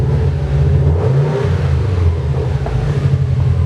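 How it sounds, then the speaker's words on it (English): Subaru Impreza WRX with a subtle aftermarket exhaust, its engine note rumbling steadily and fairly loud up close, holding a deep low drone with slight swells in revs throughout. "Give you a little engine sound and exhaust note."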